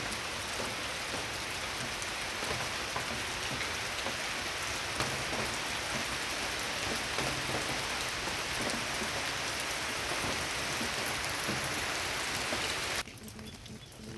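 Heavy rain pours down in a steady, dense hiss of drops on surfaces, continuous and close, then drops off abruptly near the end.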